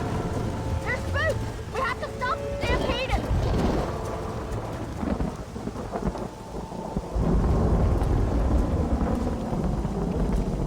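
A thunderstorm in the Red Dead Redemption video game, with rolling thunder and steady rain filling the background while characters talk over it.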